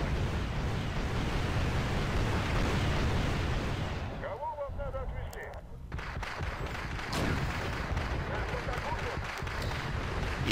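Tank gunfire and shell hits from a video game battle, heavy dense booms and rumbling impacts layered continuously, with a brief lull midway before the barrage resumes, loud and close.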